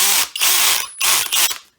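A cordless drill's old-style spring clutch slips under load, making two close, loud bursts of rapid ratcheting clicks with a short gap between them.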